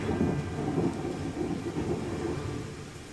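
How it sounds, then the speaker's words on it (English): Steady rain with a deep rumble of thunder in the fantasy video game Pathfinder: Wrath of the Righteous, a continuous low roar that fades slightly toward the end. "Wow, that rain."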